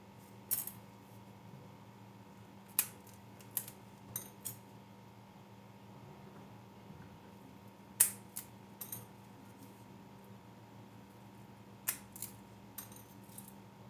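Metal scissors or snips cut four support sticks for a two-tier layered cake, giving sharp isolated clicks and snaps spaced a few seconds apart over a steady low hum, with no talk.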